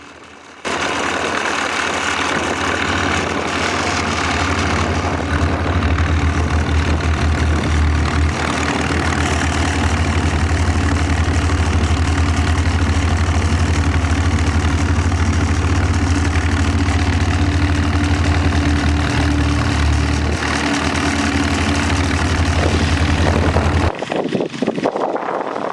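A 1939 Huber LC tractor engine idling outdoors at a spring plow day, loud and close, a steady low rumbling chug that runs unbroken before cutting off near the end.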